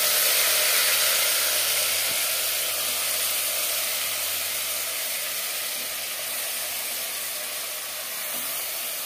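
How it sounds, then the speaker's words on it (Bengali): Marinated mutton hits hot mustard oil in a pan, setting off a loud, continuous hissing sizzle that stays steady and slowly eases slightly, with no voices. "সরষের তেল গরম করে নিয়েছি। এবার দিয়ে দেব ম্যারিনেট করে রাখা মাটন।"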